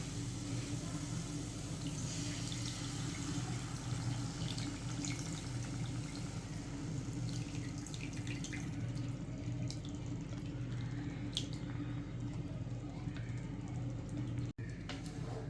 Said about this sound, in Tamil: இப்போ இந்த புளி தண்ணி ஊற்றிருக்கோம்